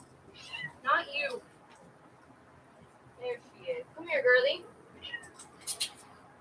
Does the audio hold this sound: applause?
no